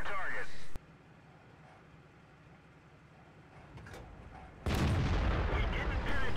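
Tank cannon blasts in World of Tanks, an AMX ELC bis battle on the Fjords map: a sharp loud shot opens, then a quieter rumbling stretch, then another heavy boom with a roaring tail, under commentary.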